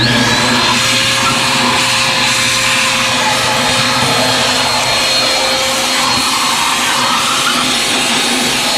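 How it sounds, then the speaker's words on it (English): Craftsman shop vacuum running steadily at close range as it sucks up metal filings, a loud continuous motor roar with a constant whine and rattling debris throughout, no talking. "it appears to be sucking up the metal filings with ease"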